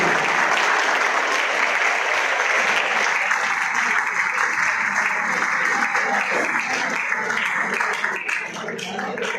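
Loud, sustained applause from a large crowd fills the whole stretch, dense and continuous before tapering slightly at the end.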